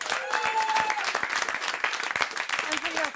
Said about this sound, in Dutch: We mogen een applausje voor de crew van het licht en techniek.